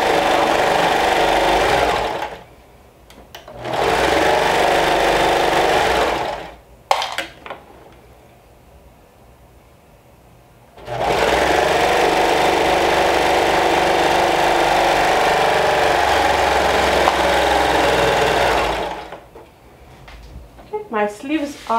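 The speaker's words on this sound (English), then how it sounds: "I'm stitching around the arm side." A home sewing machine stitches around the arm side of a sleeve, running in steady whirring stretches broken by short pauses, with one long continuous run in the middle and soft handling noises in the gaps.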